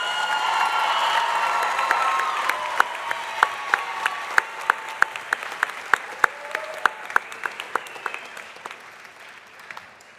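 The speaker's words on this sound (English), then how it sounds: "Could we give one more round of applause for these wonderful graduates?" A commencement crowd applauds graduates at Alfred University, a steady wash of clapping with a few sharp, close individual claps standing out as it slowly tapers off.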